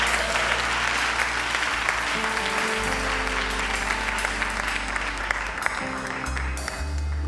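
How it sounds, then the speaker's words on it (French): A church congregation claps steadily during a worship service, with full, continuous applause over low sustained tones from music playing underneath. "On applaudit Jésus."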